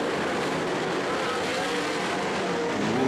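Sprint cars racing on a dirt track, engines roaring continuously as they run through turns 3 and 4, a loud sustained mechanical drone with no talking.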